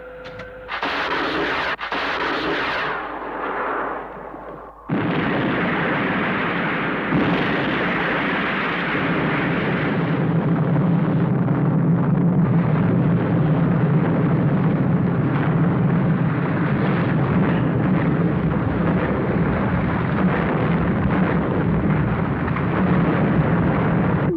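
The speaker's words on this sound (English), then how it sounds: "Thunderbird 4 from mobile control. Fire missiles. Now!" Heavy missile explosions from the Thunderbirds puppet series, loud broadband blasts and crackling bursts in the first seconds, then a sustained roaring rumble of fire and debris that continues steadily to the end, with no talk.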